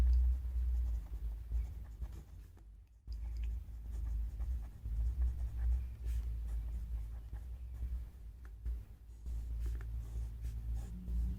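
Pen or chalk writing during a maths lesson on congruent triangles, a continuous soft scratching over a low steady hum, faint and close, with one brief pause.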